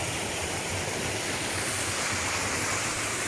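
A mountain waterfall in the wilderness roars as a steady, dense rush of falling water, loud and continuous throughout, with no voices.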